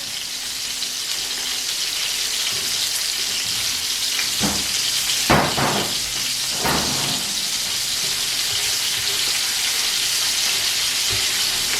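Green beans brown over gentle heat in a paella pan, a continuous even sizzle with a few brief scraping stirs midway, close and steady.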